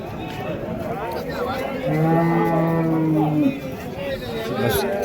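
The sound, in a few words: cow mooing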